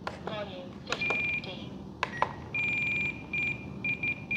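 A Blade Fusion 360 RC helicopter's radio transmitter beeping its timer alarm, sounding sharp repeated electronic tones in short bursts and longer steady runs, close and clear, with a person talking in between.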